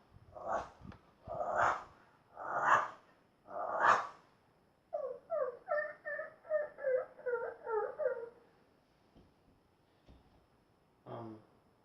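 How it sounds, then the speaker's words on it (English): A dog sound effect: four loud, close yelps or barks at a steady pace, then a quick run of smaller whimpering yips and one last short yelp after a pause, with no other sound around it. "A dog."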